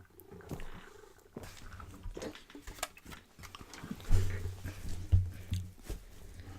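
A cat named Bonggu purring close by, a low rumbling purr that swells louder in the second half, mixed with faint rustling and handling noises.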